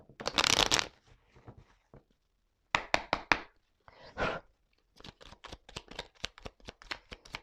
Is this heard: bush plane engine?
no